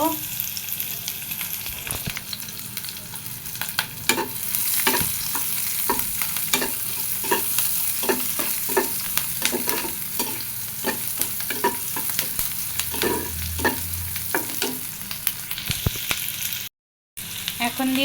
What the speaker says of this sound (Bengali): আমি এই মাছটা কালো জিরে ফোড়ন দিয়ে করব